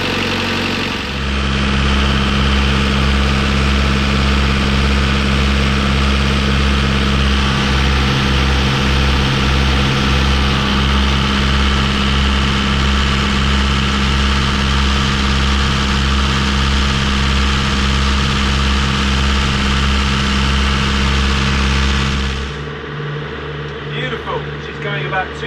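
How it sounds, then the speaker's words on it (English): Starboard engine of a boat running steadily at about 2,200 RPM, a loud, continuous low droning hum held for over twenty seconds before cutting off abruptly near the end. "Ah, that's your starboard engine."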